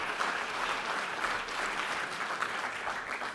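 An audience at a business forum keynote applauds in a sustained, dense wash of clapping that holds at an even level, with slight swells, from start to finish.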